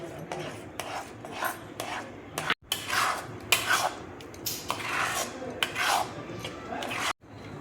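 A spoon scrapes and stirs a makhana sweet mixture with cashew powder in a metal pan, making repeated close rasping strokes with brief pauses and no talking.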